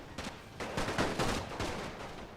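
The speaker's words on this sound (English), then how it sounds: "right now the Suaves are coming under fire" Rifle fire crackles in a World War I video game battle during a French cavalry charge against advancing German infantry, with a ragged run of overlapping shots at moderate distance, rising and falling in irregular volleys.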